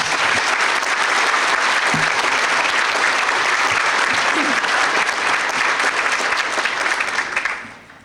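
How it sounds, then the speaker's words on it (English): An audience applauds honored police retirees at a St. Paul Police Officer of the Year ceremony, with loud, dense, sustained clapping from a large crowd that holds steady before tapering off at the end. "Let's have a round of applause for all of our honored guests."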